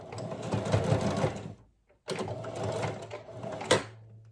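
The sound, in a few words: sewing machine stitching straight seams on waistband elastic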